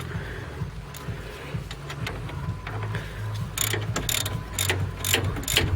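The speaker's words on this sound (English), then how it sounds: "And now it's time to remove the caliper." A ratchet wrench clicks in quick bursts while a brake caliper comes off a B15 Sentra during a big brake conversion. Rapid mechanical ticks sit close up over a steady low hum and grow louder toward the end.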